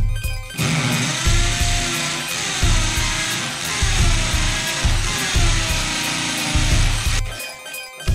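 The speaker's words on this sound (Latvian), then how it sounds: "jāiet urbt caurumu griestos" A power drill bores a hole into a living-room ceiling while a lamp is installed, a loud, sustained whining grind with slight pitch wobble that runs for several seconds and then stops abruptly.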